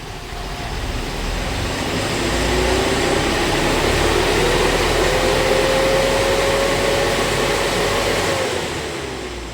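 A Sinotruk forward dump truck's Yuchai YC4D130 diesel engine revs up steadily, a loud, continuous drone holding high for several seconds before easing off, with no talking.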